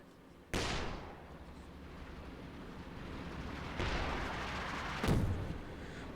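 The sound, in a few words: Land Mattress rocket artillery strikes in Company of Heroes 2 video game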